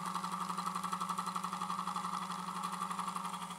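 A magnet generator with spinning coils accelerating slightly gives a steady, close electrical hum with a fast, even pulsing throughout and a faint buzzy overtone.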